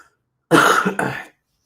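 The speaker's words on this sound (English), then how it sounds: "As you can see, I have a little bit of a cough." A single short, harsh cough close to the microphone, broken into two quick bursts, with silence on either side.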